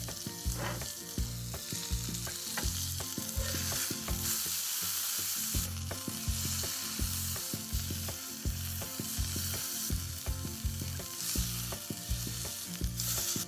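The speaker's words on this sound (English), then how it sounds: "Lay your steak down in the pan and get a nice sear." Venison steak sears in hot canola oil in a pan, a loud, dense, continuous sizzle and crackle with frequent popping spatters throughout.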